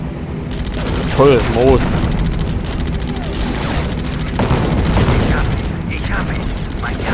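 Aircraft machine guns in the WWII flight game Heroes over Europe rattling in rapid bursts under engine drone, with someone talking over the firing.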